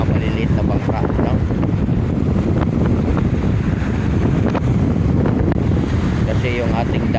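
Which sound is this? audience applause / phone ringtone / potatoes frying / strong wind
strong wind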